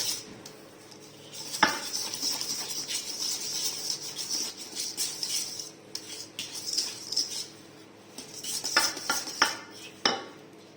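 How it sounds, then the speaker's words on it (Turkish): Oil, 175 grams, whisked with other cake batter ingredients in a bowl for a carrot walnut cake: steady rapid clinking of a whisk against the bowl with occasional sharper knocks, close and continuous. "İyice çırpıyoruz şimdi üç malzememizi"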